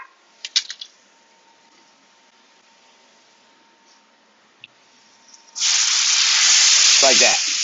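Red wine hits a hot pan slick with butter, bursting into a loud, steady sizzle that holds for the last two seconds after a quiet stretch with a few faint clatters.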